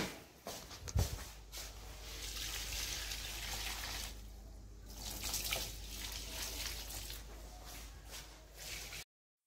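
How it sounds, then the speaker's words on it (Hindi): Water being filled, running as a steady broadband wash for about nine seconds, with a brief dip near the middle and a soft thump near the start; no one talks. "एक और दफ़ा भरना पड़ेगा यार पानी"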